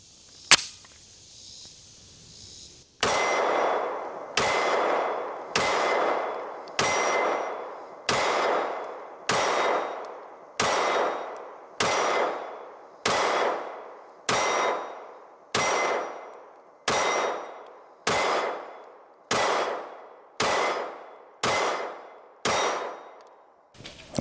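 A CZ P-10c ported pistol fires a slow, steady string of about eighteen single shots at steel targets. Each loud crack is followed by a ringing metallic clang, with a brief fainter sound before the first shot.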